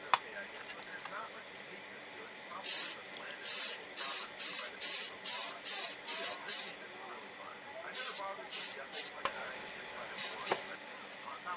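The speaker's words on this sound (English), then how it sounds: "So this is a Tamiya spray 79," Short bursts of Tamiya TS79 semi-gloss clear aerosol spray hiss in a steady rhythm onto plastic model kit parts, about a dozen quick sprays close by, with a faint voice at the start.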